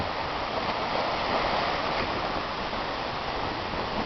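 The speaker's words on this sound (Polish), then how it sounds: "tak wyraźnie fale się wdzierają." Storm waves breaking through onto a campsite by a port make a continuous, loud, dense roar of surging water and wind with no pauses and no voices.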